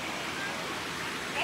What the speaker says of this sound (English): It's not a river. It's a creek.